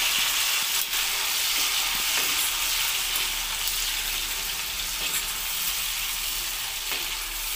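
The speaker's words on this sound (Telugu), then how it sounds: "టమోటాలు వేస్తున్నాను. ఈ టమోటాలు కూడా బాగా మగ్గనిద్దాము." Steady, loud sizzle of tomatoes frying in a pan for Nellore-style fish curry, a continuous hiss with faint clicks of stirring and no voices.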